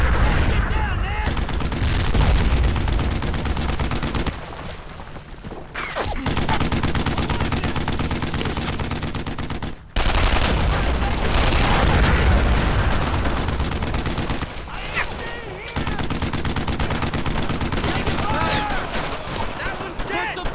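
Heavy, sustained gunfire in the Brothers in Arms: Earned in Blood video game, dense rattling bursts aimed at a tank, loud and continuous with brief lulls and a sharp break midway, voices shouting beneath the din.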